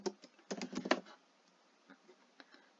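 Typing on a computer keyboard, close and quiet, with a quick burst of clustered key clicks early on, then sparse single taps trailing off.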